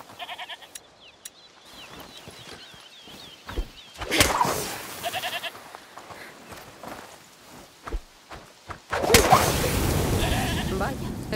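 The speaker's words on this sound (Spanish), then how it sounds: "Escuchad. ¿Es la cabra que mencionó?" A goat in A Plague Tale: Requiem bleats in short wavering cries amid footsteps and game ambience, with a few louder rustling bursts; people talk at points over it.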